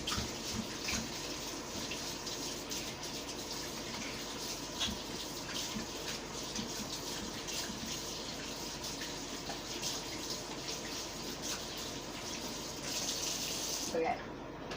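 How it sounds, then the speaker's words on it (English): Steady running water from a tap splashes continuously, close by, as hands are rinsed under it with slight shifts in the flow. "I'm washing my hands off a little."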